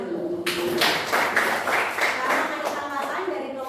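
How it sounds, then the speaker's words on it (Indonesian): A classroom group claps for fellow students after a presentation: a short burst of hand clapping with a few distinct claps, fairly close, with some voices alongside. "Tepuk tangan dulu."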